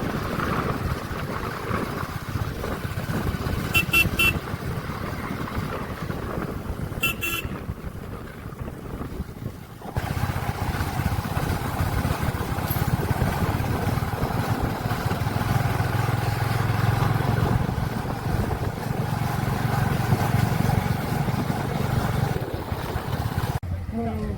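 A motorcycle engine droning steadily under heavy wind buffeting as it climbs uphill, with a brief dip partway through before the engine pulls on strongly.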